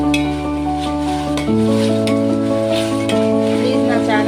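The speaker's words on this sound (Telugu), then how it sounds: "టమాటా కూడా బాగా ఫ్రై చేసుకోండి." Tomatoes fry in a pan for prawn biryani, giving a close, steady sizzle with stirring scrapes and occasional clinks under a constant hum.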